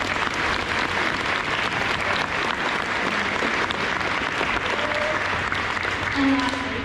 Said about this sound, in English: Please join me in a round of applause for all these individuals.